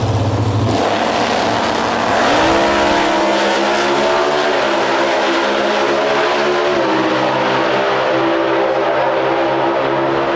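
Factory Stock drag race cars roar loudly down the strip at an NHRA Route 66 Nationals eliminations event in Chicago, with a steady powerful engine drone that rises in pitch through two gear changes and carries on alone.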